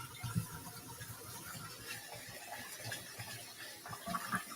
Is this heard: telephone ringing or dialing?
no